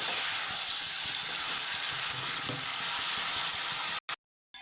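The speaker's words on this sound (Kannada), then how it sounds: "ಕ್ಯಾಪ್ಸಿಕಮ್ ಹಾಕಿ ಮಿಕ್ಸ್ ಮಾಡ್ಕೊತಾ ಇದ್ದೀನಿ ನೋಡಿ" Capsicum is stir-fried and mixed in a pan for palya. A steady, close frying sizzle runs with soft stirring scrapes, then cuts off abruptly near the end into silence.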